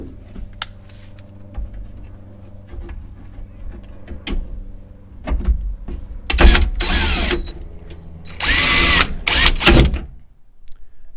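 Power drill driving T30 screws on a truck bed rack, a few short whirring bursts up close and loud, set among light clicks and handling noises, with no talking.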